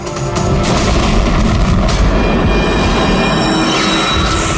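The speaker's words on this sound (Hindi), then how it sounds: "धमाका।" A loud, sustained roaring rumble fills the whole span, like the blast and aftermath of a nearby explosion, with no voices.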